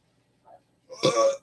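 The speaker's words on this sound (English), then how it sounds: "Oh, sad for the burp." A single loud, close burp erupts after a short faint sound and a moment of quiet, lasting about half a second.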